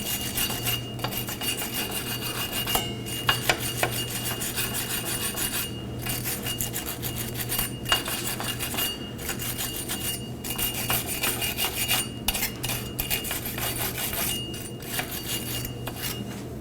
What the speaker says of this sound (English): Now I'm going to clean the mating surface on the hub to the drum with a wire brush.